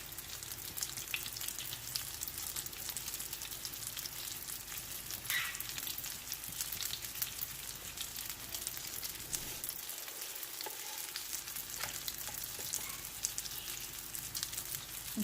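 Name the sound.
egg-dipped bun kabab patties frying in a pan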